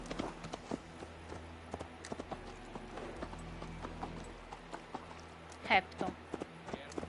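A horse gallops in Assassin's Creed Valhalla, its rapid, even hoofbeats drumming at moderate volume beneath a voice talking over the game.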